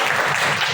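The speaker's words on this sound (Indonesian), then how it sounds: "Tepuk tangan untuk Bung Ade dulu ya." Brief burst of applause from a classroom audience after a student's maths demonstration, a dense patter of clapping lasting under a second.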